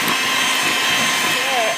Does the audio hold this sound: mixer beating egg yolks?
yes